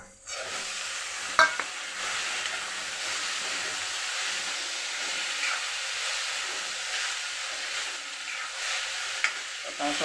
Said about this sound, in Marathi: तळून घ्यायचा चांगला हलवून घ्यायचा